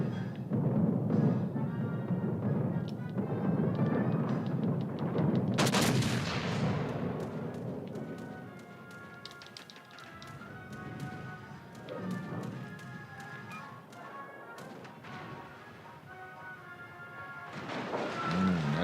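Anti-aircraft guns on a warship in World of Warships: Legends firing at incoming aircraft: rapid, dense bursts of booming gunfire that start loud and continuous, then thin out into scattered shots and a lighter rattling stream.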